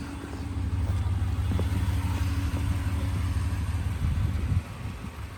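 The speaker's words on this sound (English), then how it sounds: "Compressor's still going." A steady low mechanical hum of the air suspension compressor on a 2019 Ram 1500 with failed air suspension, running continuously, fairly loud and close, with a slight change near the end.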